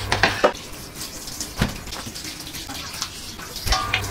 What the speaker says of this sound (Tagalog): itatapon na natin yung pinagpakuluan natin at huhugasan natin ulit yung ating mga baka